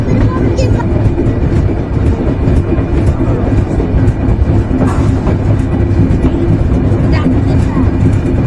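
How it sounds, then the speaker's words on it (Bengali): The Jahanabad Express, a passenger train, rumbles into Kashiani railway junction in Gopalganj with a loud, steady roar and wheel clatter, while people chatter on the crowded platform. "জাহানাবাদ এক্সপ্রেস ট্রেনটি পৌঁছে গিয়েছে গোপালগঞ্জের কাশিয়ানী জংশনে।"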